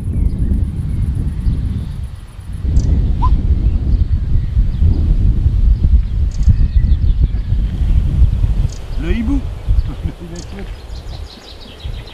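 Strong wind buffets the microphone in a steady low rumble on a slope near Dijon, France, with faint bird chirps and a few distant voices in the background.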